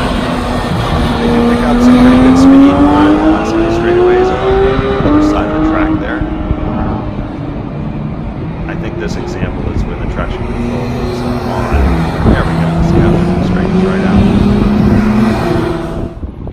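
Porsche cars racing around a track at the Porsche Experience Center in Atlanta, Georgia, with loud continuous engine drones rising and falling in pitch as they pass, accelerating on the straights, heard with talk over them.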